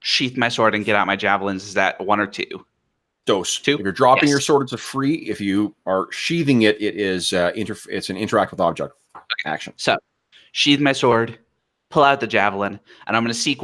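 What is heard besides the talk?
No distinct noise like a dog, phone or traffic.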